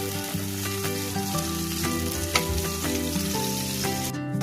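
Garlic, onion and chopped ingredients sauté in hot oil for a chicken liver and egg dish, a steady close sizzle and crackle with occasional stirring clinks, no talking.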